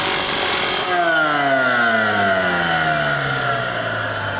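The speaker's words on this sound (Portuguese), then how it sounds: "Eu estou usando a esmerilhadora para fazer a limpeza" An angle grinder cleans a metal joint before welding, starting with a loud high whine that cuts off, then spins down with a falling pitch under a steady drone.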